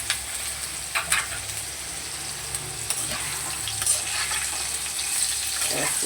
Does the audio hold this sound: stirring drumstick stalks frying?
yes